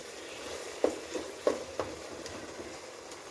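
A spoon stirs and scrapes grated carrot halwa in a pan as ghee-laden carrots are roasted, giving a few sharp scraping strokes over a soft steady sizzle, with no talking.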